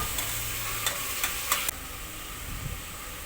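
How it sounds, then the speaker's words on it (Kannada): Tomatoes sautéing in a pan for dal, a steady close sizzle with a few light scraping stir strokes, then a softer hiss. "ಟೊಮೆಟೊನ ಸ್ವಲ್ಪ ಹೊತ್ತು ಬಾಡಿಸಿ"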